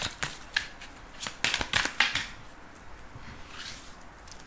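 Tarot cards being shuffled by hand before a reading, soft close papery riffles and slaps in quick irregular bursts, quiet and with no talking.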